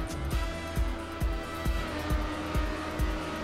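A car accelerating in the TrackMania racing video game: a steady, loud engine whine holds on, with regular rhythmic thumps beneath it that sound like tires striking track seams.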